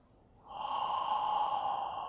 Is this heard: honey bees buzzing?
no